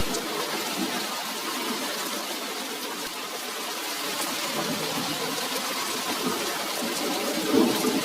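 Steady rain falling, a continuous even hiss of drops on surfaces that holds at moderate loudness throughout without pause, no voices present.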